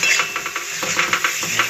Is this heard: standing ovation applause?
no